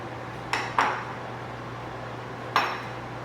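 A spoon knocks against a cup while yogurt is scooped into it, three sharp close clinks, two quickly together and one a moment later, over a steady low hum.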